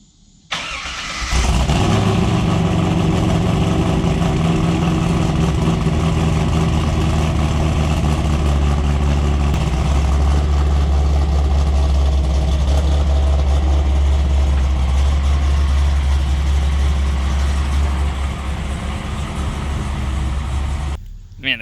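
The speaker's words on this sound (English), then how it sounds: "I'm gonna do a cold start up and back this out so we can wash it so you can hear what it sounds like." A Corvette C5 Z06 fitted with tri-Y headers and an X-pipe cold starts with a sudden loud bark, then settles into a deep, steady, throaty idle up close.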